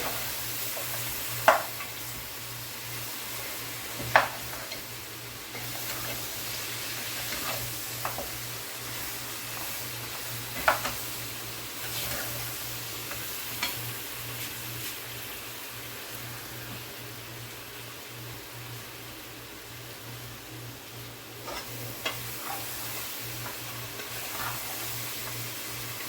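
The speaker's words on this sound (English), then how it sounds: "Just stir it right up, and then I'm going to cover it and just let it fry up a little." Curry turkey and chicken frying in a pot, a soft, steady sizzle running beneath several sharp clacks of a spoon stirring and scraping against the pot at irregular intervals.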